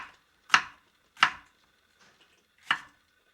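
Knife chops paprika and vegetables for a protein chicken stew on a board, three distinct crisp thuds spaced irregularly, close up against near silence.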